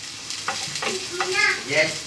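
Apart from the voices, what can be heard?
frying onion and garlic in a pan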